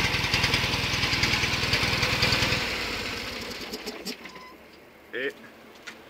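A Fiat 500 engine with a stroboscopic timing lamp in use idles with a steady, close, pulsing rumble for about two and a half seconds, then is switched off and fades into quiet with a few faint clicks.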